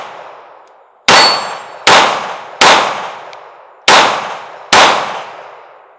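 Pistol shots from a Smith and Wesson Bodyguard 2.0 ring steel plate-rack targets, five sharp metallic clangs in an irregular rhythm, each leaving a bright, decaying ring.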